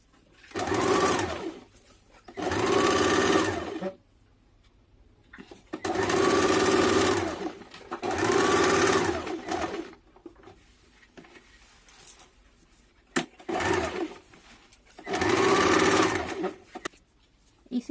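A sewing machine stitches synthetic fabric for an umbrella-style baby frock, running in six separate bursts of steady whirring, each a second or two long, with short quiet pauses between them. The machine is close and fairly loud, with no voices.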